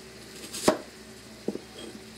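A knife chops onion into strips on a board, with one sharp, clear cut followed a little later by a couple of softer, quieter taps.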